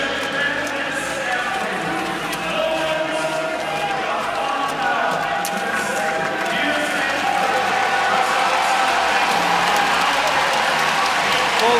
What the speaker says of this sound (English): who applaud the fans, who quite rightly on their feet applaud them back